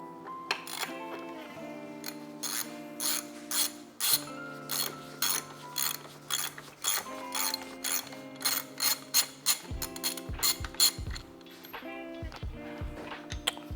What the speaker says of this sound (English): we're going to be removing our motor nuts using a 21mm socket wrench